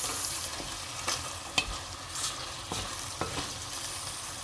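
White onions sauté and sizzle in a pan for ragu bolognese, with a steady frying hiss and a few sharp stirring clicks and scrapes. The cooking sounds run close and continuous, and nobody speaks.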